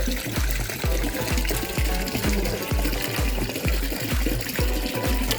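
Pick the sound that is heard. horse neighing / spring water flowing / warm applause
spring water flowing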